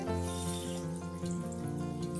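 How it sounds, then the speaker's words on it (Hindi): Water runs steadily into a pan of ground cooking spices while making a tomato masala, a continuous close liquid pour heard alone. "थोड़ा सा हम इसमें पानी ऐड कर देंगे"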